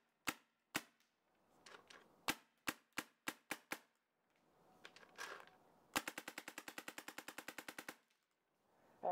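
A paintball gun fires into the woods: sharp single shots spaced out at first, a pause with some rustling, then a fast, steady burst of rapid shots, all fairly close and clear with no talking.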